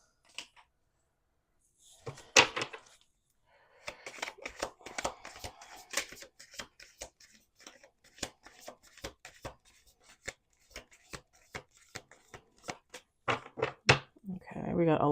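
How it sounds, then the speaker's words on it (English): Cards being shuffled and handled in a series of quick sharp taps and slaps, irregular and close, with gaps of quiet between bursts. "So let's do one more shuffle."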